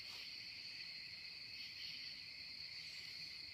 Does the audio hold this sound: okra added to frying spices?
no